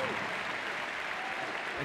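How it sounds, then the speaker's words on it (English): An arena crowd applauds teams on the floor at a regional team fitness competition, a dense, steady wash of clapping lasting the whole moment, with voices mixed in. "One more time, a big round of applause for all these teams here."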